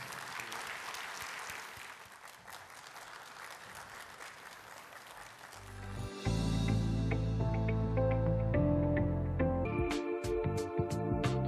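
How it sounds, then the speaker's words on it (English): Audience at a financial crimes and corporate governance seminar in Dubai breaks into applause, a dense clapping that swells partway through and carries on loud and sustained. "A big round of applause for Mr. Hassan."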